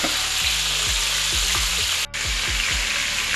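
Red snapper fish frying in a pan of hot oil, a loud, dense, continuous sizzle heard up close with repeated low scraping stirs, and a brief dropout partway through.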